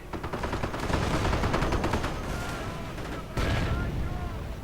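Rapid rifle and grenadier gunfire from a WWII strategy game crackles in dense, overlapping bursts with heavy booms underneath, and the intensity jumps again near the end.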